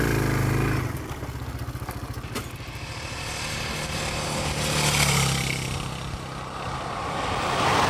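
A Sachs 650 roadster motorcycle engine, a close, loud rumble that drops to a rapid idle-like pulse, then swells again as it revs, with no voices over it.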